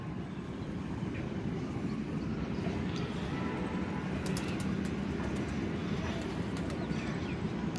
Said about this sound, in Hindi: इस लोग धड़ाधड़ कबूतर छोड़ रहे हैं।